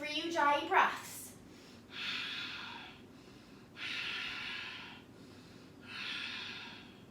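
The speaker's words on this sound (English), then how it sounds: "Reset yourself for 3 Ujjayi breaths." Slow, audible Ujjayi breaths during a vinyasa power yoga flow, three long hissing ocean-like exhalations spaced a couple of seconds apart, close and steady after a brief spoken cue.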